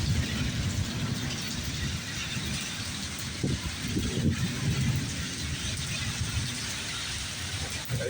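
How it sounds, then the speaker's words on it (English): Heavy rain pours steadily onto a flooded parking lot, a dense continuous hiss with low rumbling beneath and a couple of faint thumps, constant and enveloping with no voices. "As you can see, it's one heck of a rainy day."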